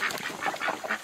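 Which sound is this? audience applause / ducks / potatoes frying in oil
ducks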